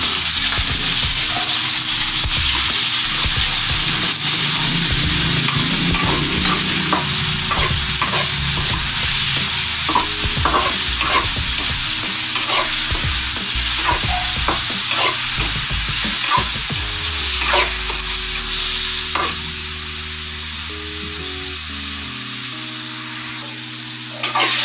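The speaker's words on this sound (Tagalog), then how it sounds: "So, antayin lang natin mag-brown yung ating karne." Meat browning in a pan, sizzling steadily while a utensil scrapes and stirs it in repeated clicks; the frying stays loud and close and quiets slightly toward the end.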